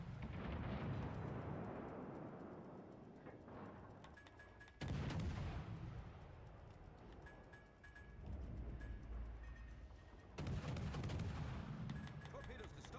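Heavy naval gunfire in the World of Warships video game, with three loud booming salvos that each roll off into a long rumble, close and dominant.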